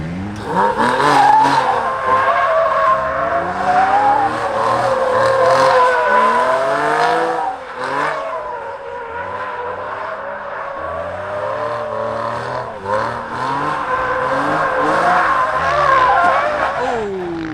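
A Porsche Safari car is driven hard around cones, its engine revving loudly close by while tires squeal and skid repeatedly, with short breaks in the noise between passes.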